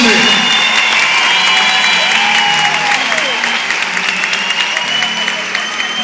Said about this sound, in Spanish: Vamos a dar un fuerte aplauso a los organizadores de este evento, por favor.